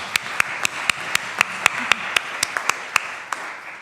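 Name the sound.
audience applause for panel speakers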